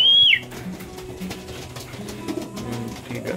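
Racing pigeons coo softly in low, murmuring calls, following a short sharp high whistle at the start.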